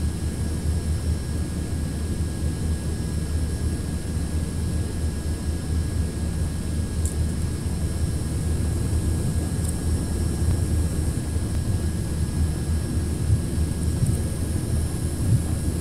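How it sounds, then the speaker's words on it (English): Steady broadband wind and engine roar as a Quest Kodiak rolls down the runway in X-Plane 11, constant and fairly loud with a low rumble and faint tonal whine, without speech. "Now you can hear the wind as we roll down the runway"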